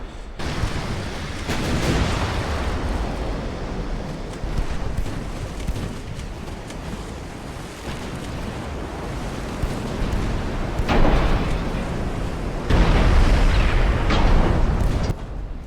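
Naval gunfire and shell explosions in the warship strategy game Ultimate Admiral Dreadnoughts, a dense, continuous rumble of booms with stronger bursts near the start and end, no talking.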